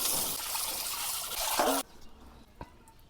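Running water splashes loudly and steadily over raw chicken pieces cut for tandoori as they are rinsed, then cuts off abruptly, leaving a quiet room with a single small knock.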